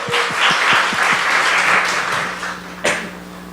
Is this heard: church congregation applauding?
yes